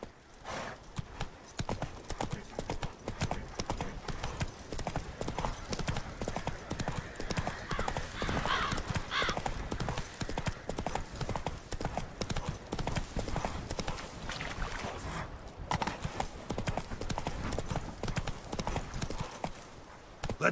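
Horse hooves galloping in The Witcher 3, a rapid, continuous clip-clop rhythm close up and steady for the whole stretch, with a faint whinny partway through.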